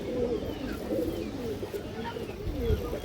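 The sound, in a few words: pigeon cooing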